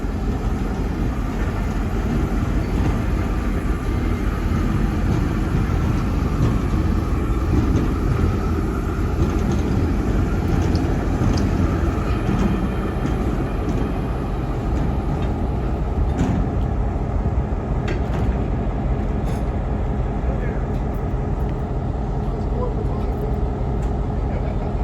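Steam locomotive number 80 rolling off a railway turntable at a Tennessee railway museum, a loud continuous rumble of engine and wheels with a mechanical clank partway through.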